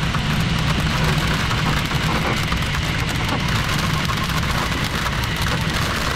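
Rain drums on a glider in flight as it climbs through a shower, a steady, dense hiss with a low rumbling undertone that continues without a break and with no voices.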